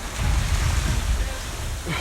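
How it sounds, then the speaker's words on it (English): Ocean surf at night at Siesta Key rolls in as a steady, loud wash of waves mixed with wind buffeting the microphone. "Walking into the ocean in the middle of the night."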